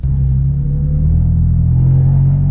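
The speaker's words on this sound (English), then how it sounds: "Downshift sounds so good." A tuned Stage 3 BMW M4 engine heard from inside the cabin during a downshift, a steady loud low rumble and drone that swells slightly as revs rise, with no talking.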